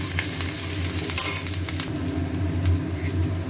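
Onions and chopped green chillies fry in a pan with a steady, fairly loud sizzle, mixed with continuous stirring scrapes and occasional light clinks, no voices.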